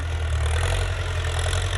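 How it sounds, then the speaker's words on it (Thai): A Ford 6610 farm tractor engine runs steadily at a low, throbbing idle-like drone, close and continuous with no voices over it. "วันนี้ก็จะพามาดูรถไถฟอร์ด รุ่น 6610"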